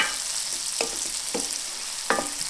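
Onions turning translucent in a pan for keto chicken curry, a continuous bright sizzle with a few sharp clacks of a spatula stirring, close and steady, with no voices.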